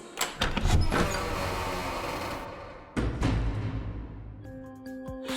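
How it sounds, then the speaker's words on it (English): A door closes in the horror game Boris and the Dark Survival, with a heavy impact near the start and a second thud about three seconds in, each followed by a rumbling tail, ending in a faint tonal hum. "the sound of the door closing, which comes after the cutscene"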